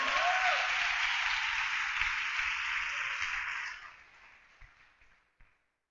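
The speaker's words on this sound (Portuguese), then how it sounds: "dá um aplauso a Jesus aí" A church congregation applauds together, a broad, dense wash of clapping that holds steady at first and then thins and fades away to silence, with no voices over it.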